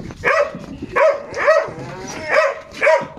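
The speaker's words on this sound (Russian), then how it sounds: "Тут собаки." Several dogs in a village yard, sharing one kennel, bark close and loud in five evenly spaced, sharp barks with short quiet gaps between them.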